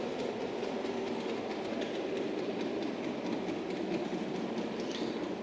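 A model railway locomotive runs on the inner loop of a layout, giving a steady close rolling rumble with faint rhythmic clicking of wheels over track joints and no voices.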